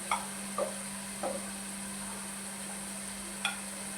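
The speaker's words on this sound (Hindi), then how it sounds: "इनको अच्छी तरह से मिक्स करके भून लें।" Aloo phaliyan, potatoes and green beans with spices, is stir-fried in a pan under a low sizzle, with a few sharp scraping stirs spaced irregularly over a constant electrical hum.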